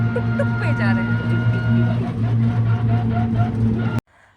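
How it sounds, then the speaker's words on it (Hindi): Auto rickshaw ride through Prayagraj's crowded evening streets near the Kumbh Mela, a steady droning engine with strong low hum continuing throughout, voices talking over it, cut off abruptly near the end. "हम टुक टुक टुक टुक पे जा रहे हैं."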